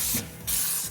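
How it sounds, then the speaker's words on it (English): Diesel fuel sprays hard out of a loosened filter housing on a 6.5L diesel engine, a loud, steady hissing spray that drops out briefly midway and then resumes at full force. "Watch fuel spray everywhere"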